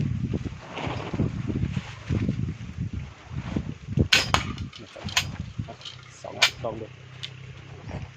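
Strong wind blows outdoors in gusty bursts and microphone buffeting, heard under someone talking throughout, with a few sharp rattles and snaps.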